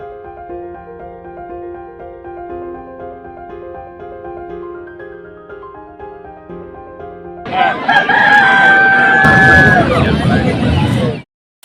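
Desi and black fighter chickens and chicks are heard, with a loud, close burst of rooster crowing and clucking in the last few seconds after a quieter stretch of steady tones.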